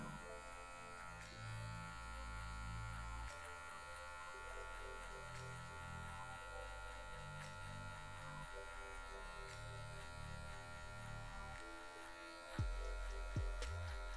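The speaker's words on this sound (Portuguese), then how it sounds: "Eu vou usar só a quina da máquina para tirar o excesso aqui desse cabelo." Electric hair clipper buzzing steadily and up close while trimming hair on a fade haircut, a continuous drone with slight pitch changes as the blade moves and a brief bump near the end.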